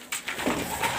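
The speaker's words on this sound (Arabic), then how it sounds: "ده حمام الصغير يا جماعة اللي عندي" Young pigeons kept at home, heard in a quiet indoor space, giving a short run of soft, close coos and chirps.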